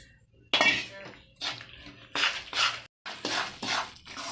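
Urad laddu mixture with ghee and edible gum being stirred and roasted in a pan: repeated metallic scraping strokes of a spoon against the pan, close and rhythmic, with brief gaps between strokes.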